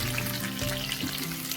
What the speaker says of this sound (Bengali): আমি তো এদিকে আলুগুলো ভাজতে দিয়ে দিয়েছি, তো এটাকে ভালো করে ভেজে নিই।